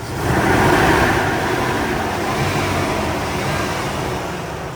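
A Toyota Tacoma Double Cab TRD Off Road pickup's engine runs at a steady idle, a loud, even mechanical drone heard up close with the hood open, with no talk.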